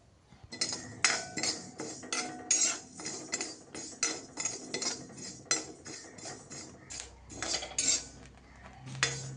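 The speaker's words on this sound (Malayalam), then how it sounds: "ഒരു കാൽ ഗ്ലാസ് അരി നമുക്ക് വറുത്ത് എടുക്കാം" A spatula steadily scrapes and clinks against a pan while rice is dry-roasted and stirred, a close, even rhythm of strokes running throughout with no talk.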